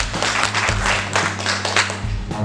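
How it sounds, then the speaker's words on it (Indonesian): School audience clapping in a hall for the headmaster during an anti-bullying event, brisk claps filling the short moment with a low hum underneath and no talk. "Tepuk tangan untuk Pak Direktur."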